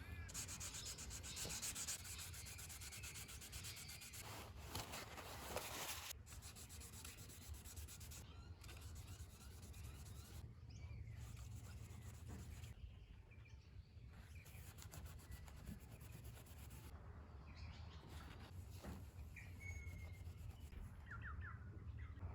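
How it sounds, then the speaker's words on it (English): Steady abrasive rubbing of 240-grit sandpaper across a varnished wooden RC boat surface, continuous and close, with brief pauses and faint background noises. "I've sanded that back with 240 grit sandpaper"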